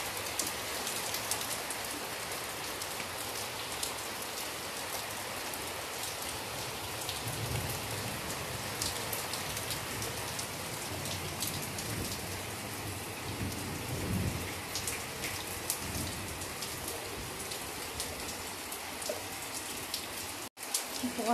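Heavy rain pours down steadily during a fierce storm, a dense continuous hiss of drops on surfaces with faint rumbles beneath, lasting the whole stretch with no voices.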